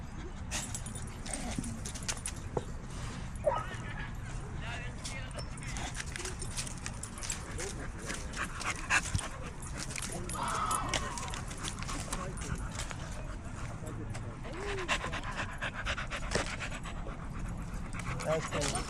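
Dogs pant at a busy outdoor dog park, rapid breathy huffs close by, with scattered footfalls, jingles and background chatter as people talk throughout.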